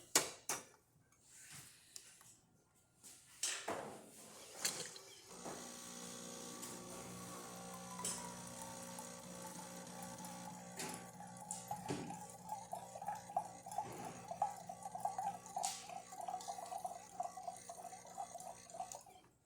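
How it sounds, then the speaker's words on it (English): A Jura X8 coffee machine, just serviced, dispensing hot water, a faint steady trickle and hiss with occasional drips and clicks, heard alone. "So let's test the hot water."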